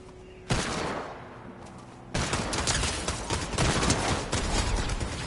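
Gunfire in Fortnite, a sudden dense burst of rapid automatic shots that breaks off, then a second longer barrage of loud overlapping shots and fusillade continuing to the end.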